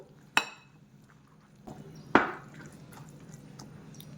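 A spoon stirs a chickpea salad in a bowl, giving two sharp clinks against the dish amid soft, quiet mixing sounds.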